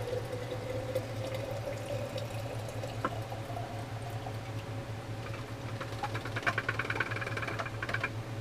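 Liquid is poured out of a C-41 film developing tank in a steady, close trickling splash over a constant low hum, with a few small clinks toward the end.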